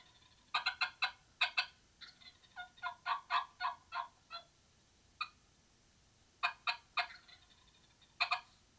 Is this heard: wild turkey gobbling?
yes